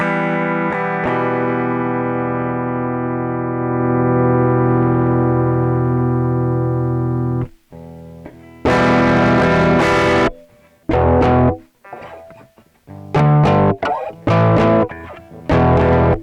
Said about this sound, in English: select either the tube drive or the distortion amp. And I think I'll go with the tube drive first.